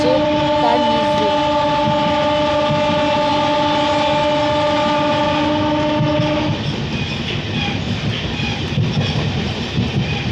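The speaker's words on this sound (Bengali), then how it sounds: "আমাদের আসানসোল টু বর্ধমান মেমু রানীগঞ্জ স্টেশন থেকে বর্ধমান যাওয়ার যাত্রায় অন্ডাল স্টেশন থেকে এইমাত্র বেরোলো" An Asansol to Bardhaman MEMU passenger train runs between stations, its horn blaring in a long sustained blast before giving way to steady rumbling and rattling of the moving carriages.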